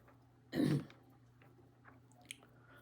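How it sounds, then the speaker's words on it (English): One short, loud throat clearing close by, followed by quiet room noise with faint small rustles. "I'm sorry I keep doing that, but I have to clear my throat."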